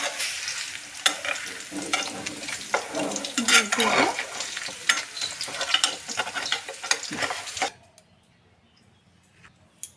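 Cooked cabbage being lifted out of a sizzling pan, steady frying crackle with scraping and clinking stirs for several seconds, then the sizzle cuts off to near silence.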